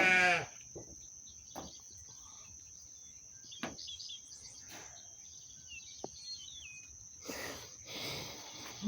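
Sheep bleat faintly on a farm against a constant high insect hum and scattered small clicks, with a louder burst near the end.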